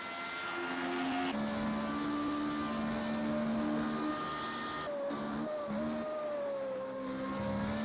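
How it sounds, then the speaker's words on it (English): Formula Renault race cars scream past at the Red Bull Ring, high-pitched engines rising and falling as several cars sweep by and shift gears, a loud continuous wail with no talk. "Yeah, the cars do sound good. These things absolutely scream."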